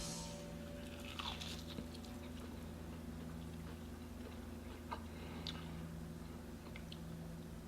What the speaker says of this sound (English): I'm going to take a bite and see how they taste.